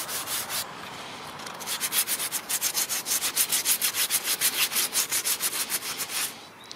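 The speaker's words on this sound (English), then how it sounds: "A lot of this black coating will just come off with a scouring pad." A scouring pad scrubs black coating off a rusty vintage Tyzak Works Sheffield scythe blade in fast, even back-and-forth strokes, a close, loud abrasive rasp that pauses briefly near the start and stops near the end.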